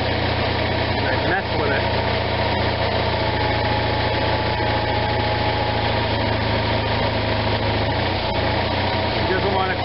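An Onan RV generator engine runs steadily at a fast, uneven speed, never dropping down to idle, a constant close mechanical drone with someone talking over it.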